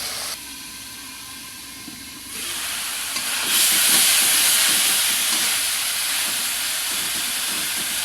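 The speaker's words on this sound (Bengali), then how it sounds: "এখন একটু সামান্য পরিমাণে জল দিয়ে ঢেকে দিব, বেগুনগুলো সিদ্ধ হওয়া পর্যন্ত অপেক্ষা করব।" Steady steam hiss and sizzle rises from eggplant simmering covered in a little water in a pan, growing slightly louder partway through and continuing as an even, close hiss with no talking.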